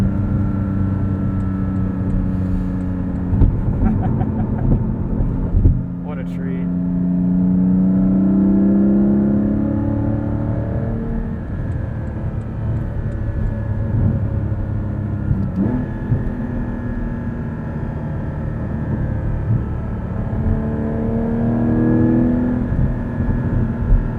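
The 3.8-litre engine of a 2020 Porsche 718 Cayman GT4 heard from inside while driving, rising and falling through repeated throaty revs and gear changes, loud and steady with no talk.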